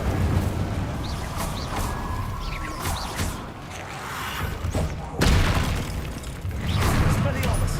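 Fire spells cast in the Hogwarts Legacy video game, a steady roar of crackling, booming combat effects with repeated thuds and bursts layered over dense game noise, loud and continuous throughout.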